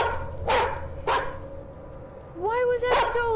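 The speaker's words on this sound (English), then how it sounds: "I heard dog." A dog barks in the horror karaoke game Hitokara: two short, sharp barks, then a louder, drawn-out whining bark near the end.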